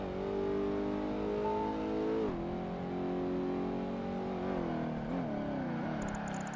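A Ford GT40 race car in Project Gotham Racing 2 holds a steady, loud engine drone, which dips as the car shifts gears and then climbs again, with small pitch swings as it works through corners.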